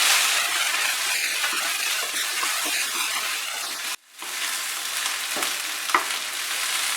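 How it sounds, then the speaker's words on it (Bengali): Ginger paste frying over medium heat in a pan for Bengali neem shukto, a dense, loud, steady sizzle with spoon stirring, briefly cut off once, then resuming with a couple of sharp scrapes. "আদা বাটাটা দিয়ে আমি ভালো করে মেশাতে মেশাতে 1 মিনিট ডেকে রান্না করব।"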